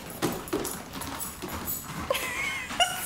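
A husky wearing dog boots clacks on a wooden floor, several quick uneven taps like hooves, with a brief faint voice and some squeaks in between.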